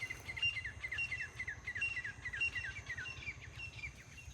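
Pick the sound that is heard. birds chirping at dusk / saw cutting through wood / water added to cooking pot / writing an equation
birds chirping at dusk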